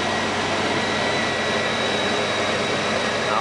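A 2001 Chevy Xtreme Blazer engine idles steadily after an intake manifold gasket repair, a constant broadband roar with a thin high whine on top, close and loud, with no talk.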